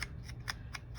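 Scissors cut paper die cuts. A quick, even series of faint crisp snips sounds close by, about four per second, with no talk.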